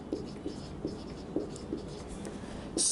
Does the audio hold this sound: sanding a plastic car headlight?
no